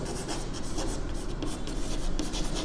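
Chalk or marker scratching steadily on a board while working a maths problem on the slant height of a frustum, close and continuous with short strokes and scrapes, no voices.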